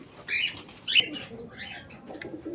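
Frightened pet parrots or cockatiels flap their wings inside a cage when a net appears. Two quick, close bursts of fluttering are followed by lighter rustling.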